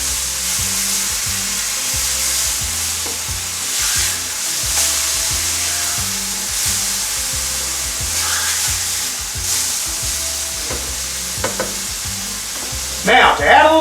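Sliced bologna and hot sauce fry in a pan, giving a steady, dense sizzle that hisses evenly throughout, with a few brief scrapes and clatters near the end and no talking.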